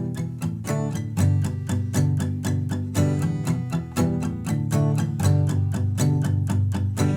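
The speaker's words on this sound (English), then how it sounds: "I like playing it with some palm muting and some eighth notes" Acoustic-style guitar playing the verse of a song with palm-muted eighth-note down strums, a steady percussive chug with periodic chord changes, close and alone with no talking.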